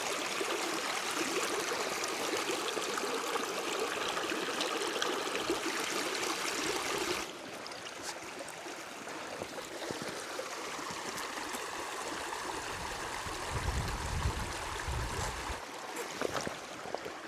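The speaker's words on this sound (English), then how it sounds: "There's a beck at the bottom here." A hillside beck in the Newlands Horseshoe fells flows steadily and close by, a continuous rushing babble that dips briefly midway as the listener shifts position, with no speech.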